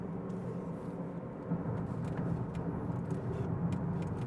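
Cabin of a 2020 Honda Accord 2.0 Hybrid taking a curve on the road, a steady low engine and road rumble with faint tyre noise, continuous and even throughout.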